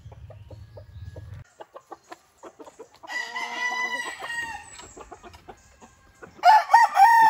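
Sweater Boston Roundhead gamecock stag crowing once loudly near the end, after scattered clucks and a stretch of mixed farmyard fowl calls, with a low hum at the start.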